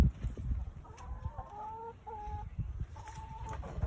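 Chickens cluck softly nearby, a few short tonal calls over scratchy, shuffling ground noise.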